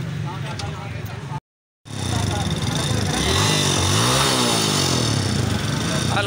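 An old-model Yamaha Junoon motorcycle engine cranks, cuts out briefly, then starts and settles into a steady close idle that rises and falls as the throttle is blipped.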